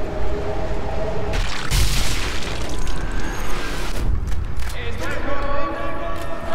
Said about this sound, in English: Oh, someone shooting at us!